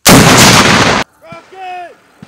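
An AT4 rocket launcher fires on a live-fire range, one very loud, close blast lasting about a second, followed by shouted voices.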